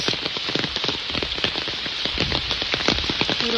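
Steady rain patters on a hard surface, dense and continuous, with close drops splashing sharply over the constant hiss.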